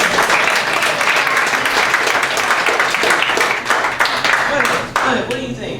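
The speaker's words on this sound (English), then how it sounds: "let's clap it up for him" Teen summit audience clapping for a young speaker, a loud, sustained burst of many hands with a few voices mixed in, tapering off near the end.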